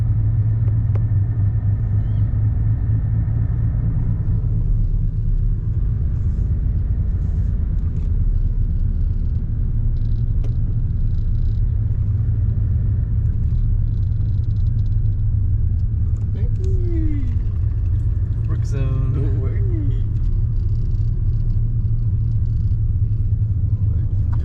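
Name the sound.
car driving through Royal Oak, Michigan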